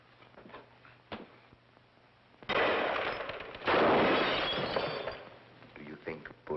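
A burst of gunfire from an old feature film, The Amazing Mr. X, erupts as a loud, dense crackling volley lasting about two seconds, with brief quieter dialogue and sound effects before and after.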